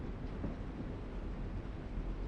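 A train in The Walking Dead video game gives off a steady, low rumbling drone that holds evenly throughout, with no voices over it.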